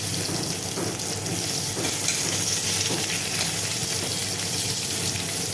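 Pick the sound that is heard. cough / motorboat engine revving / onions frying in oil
onions frying in oil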